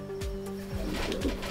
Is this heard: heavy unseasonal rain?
no